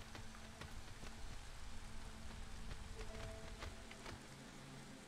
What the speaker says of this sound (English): This isn't storm, this is drizzle.